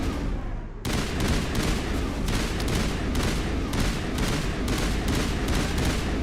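Loud, continuous bursts of assault rifle fire from Mass Effect Legendary Edition gameplay, opening after a brief lull and then rattling on densely and close for several seconds with no talk over it.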